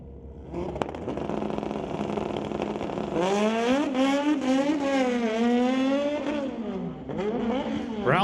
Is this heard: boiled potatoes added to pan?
no